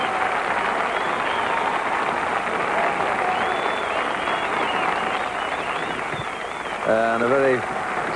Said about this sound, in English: a very satisfied Jack Nicklaus getting a wonderful round of applause, a standing ovation